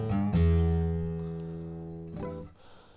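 A fast blues lick on electric guitar in open position, minor pentatonic, is played as a quick burst of notes that then sustains and fades, with a second pick attack near the end, fairly quiet and without talking.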